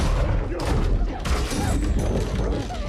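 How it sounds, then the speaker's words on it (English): A werewolf in a monster movie pounds repeatedly on a wooden door: several loud, heavy thumps land in an irregular burst over a dense, noisy film soundtrack. "the werewolf bangs on the door a bunch"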